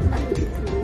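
Racing pigeons arrive at the loft during a 145 km training race, with soft cooing and bird sounds close by over a brief windy, rumbling background.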